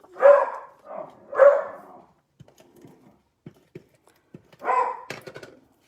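A dog barks three times close by, then a few faint clicks and taps follow before one more loud bark.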